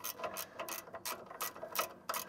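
Ratchet spanner on a Cobra Fortis cylinder mower, quick close bursts of clicking that repeat in a steady back-and-forth rhythm.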